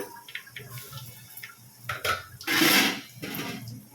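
Soaked chana dal rinsed and tipped into a cooking pot, with clattering metal pot and utensil knocks and a brief burst of splashing water, close and fairly loud.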